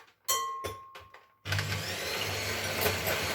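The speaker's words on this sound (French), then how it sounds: "ou vous mélangez à la main, ou vous le faites au batteur. Moi, je fais au batteur." An electric hand mixer beats batter for an apple, pear and chocolate cake: a few short whirring bursts, then a sustained close, noisy motor drone that holds to the end.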